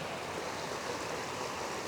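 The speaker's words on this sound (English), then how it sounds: "That's beautiful too, the run of the water." A mountain stream in Welsh waterfall country rushes continuously, a steady close wash of running water with no voices.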